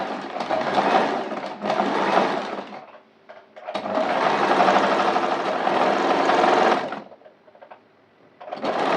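A sewing machine stitches kurti fabric made from nighty material in two slow, sustained runs with a short pause between, its motor hum close and steady before trailing off.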